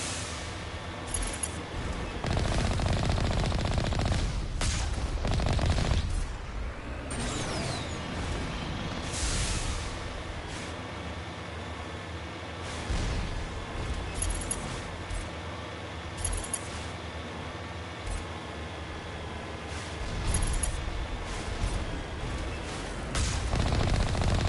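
Turret gunfire in the Mass Effect game: repeated loud bursts of automatic shots, some rapid clusters and heavier booms, spaced unevenly across a long stretch with no talking.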